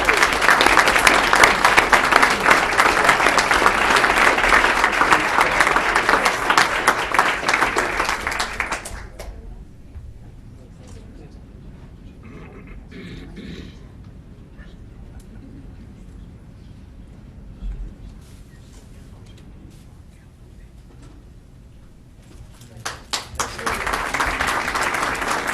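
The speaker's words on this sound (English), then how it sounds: "Please give them a round of applause." An audience applauds the varsity bowlers at a school board of education meeting, a loud, sustained burst of clapping that fades out, then a quiet stretch before another round of applause starts up.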